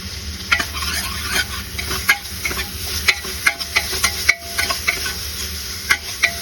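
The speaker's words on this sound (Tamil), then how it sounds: "ஆனியன் போட்டு வதக்கிட்டே இருக்கும். ஆனியன் சீக்கிரமா வதங்கிறதுக்கு சால்ட் யூஸ் பண்ணிக்கலாம்." Onions cooked with salt in a pan, the spatula scraping and stirring in irregular strokes over a steady close sizzle, with no voices.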